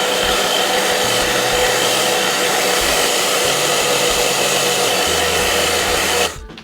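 A hair dryer blows steadily on watercolor paint on paper, a loud continuous whooshing roar running unbroken for about six seconds before abruptly cutting off at the end.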